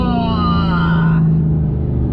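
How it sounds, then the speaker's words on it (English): A car engine revs hard through a downshift, a loud sustained roar with a falling then settling pitch, close by and dominant. "Oh, the downshift."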